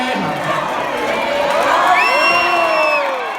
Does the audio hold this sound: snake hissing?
no